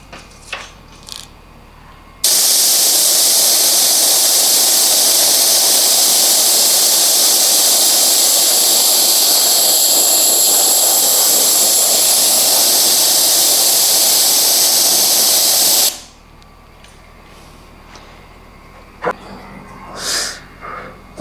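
A compressed air line blasts steadily through the oil cooler of a landspeed turbo bike, a loud continuous roaring hiss lasting about fourteen seconds, with quieter workshop sounds before and after.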